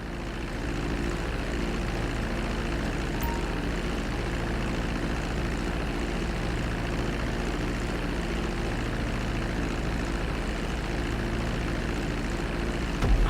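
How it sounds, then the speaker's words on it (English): A plane taxis on the runway in Grand Theft Auto 5. Its propeller engine gives a steady, continuous drone that stays level and unbroken throughout, with no voices. "Now let's get the plane off the runway."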